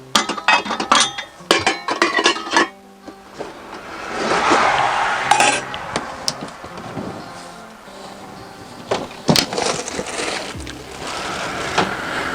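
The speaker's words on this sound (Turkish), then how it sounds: "Şöyle küçük bir çaydanlıkla bir çay yapalım." Small teapot being used to make tea inside a cramped caravan, with dishes and cups clinking in short, close bursts between rustling handling noises and a soft steady hiss, no talking.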